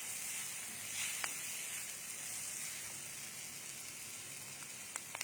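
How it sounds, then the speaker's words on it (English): Vegetables sauteing in butter in a pan over the stove, giving a steady soft sizzle and hiss with a few faint clicks. "So we'll saute that also in butter."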